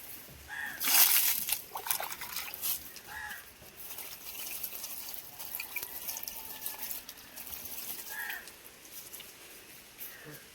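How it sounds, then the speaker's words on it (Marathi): Water splashes and drips onto a loose layer of cow-dung compost for vermicompost in irregular bursts, close and moderately loud, with trickling between the splashes. "चांगलं पाणी मारायचं आपण त्याच्यावरती."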